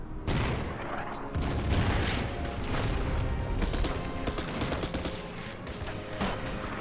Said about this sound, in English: Now let's fire the artillery.